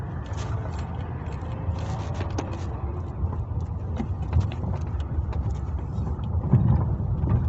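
A car creeps along a narrow road through market traffic, its steady low engine rumble constant and fairly loud, with faint street noise around and no talking.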